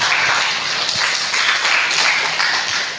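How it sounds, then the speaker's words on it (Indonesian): A church congregation at a Sunday morning service applauds, a steady wash of many hands clapping together for a few seconds, moderately loud and tapering slightly at the end. "Kita berikan tepuk tangan."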